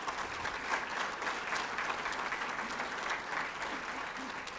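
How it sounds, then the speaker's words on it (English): Applause from an audience at a National Signing Day event, an even, fairly distant wash of clapping that holds steady throughout with no voices on top. "please have a huge round of applause"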